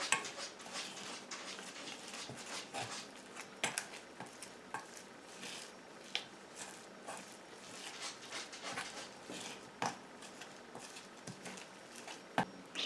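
A homemade shampoo mixture with rice proteins is stirred in a container, making faint, quiet clinks and light ticking taps of the utensil that repeat irregularly with no speech.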